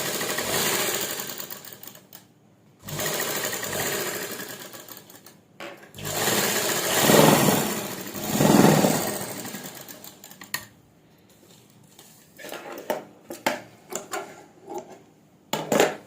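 Sewing machine stitching the neckline of a simple suit along the buckram, in several bursts of rapid, close mechanical whirring separated by pauses, with quieter ticks and handling sounds in between.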